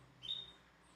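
Saffron finches at a homemade feeder give a single faint, short high chirp against a quiet outdoor background.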